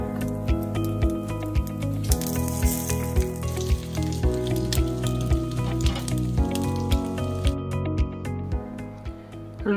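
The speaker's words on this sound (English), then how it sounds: "then move on to frying it the same way I did with the American" Soaked bread for French toast sizzles in a pan of oil and butter, a steady close crackle with small rhythmic pops, while music plays underneath.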